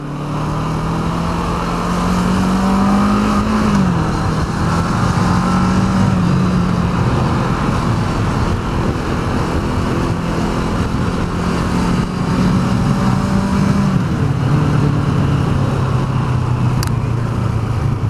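A Kawasaki ER-6N motorcycle engine drones steadily while riding, its pitch rising and dipping as the rider works the throttle, with continuous wind rush and road noise throughout.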